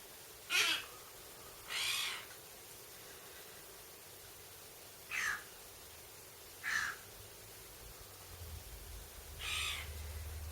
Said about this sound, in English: Starlings are actually bathing in his bird bath, and the seagull likes to stand in the bird bath